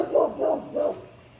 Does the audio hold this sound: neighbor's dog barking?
yes